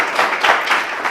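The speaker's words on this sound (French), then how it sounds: "Merci, on applaudit." Brief applause from a small audience at a French-language interview, a dense patter of hand claps at moderate level.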